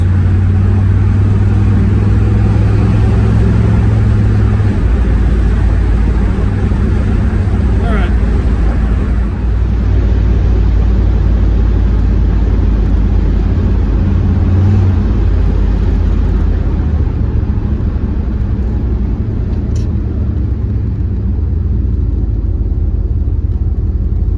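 A car with a 727 TorqueFlite automatic transmission cruising at about 2,200 RPM and 60 mph, heard as a loud, continuous low engine drone and road rumble from inside the cabin, steady for the whole stretch.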